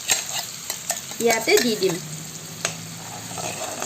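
Palak chicken with spinach stirred in a pan, spatula scraping and sizzling in an irregular rhythm, close and clear, with a short spoken phrase near the start.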